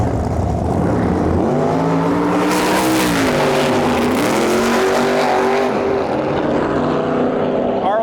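Two nitrous drag racing cars, a Pontiac G6 GTP coupe and a C5 Corvette, roar down the track at a qualifying event, engines rising loud in pitch as they pass, then fading into the distance.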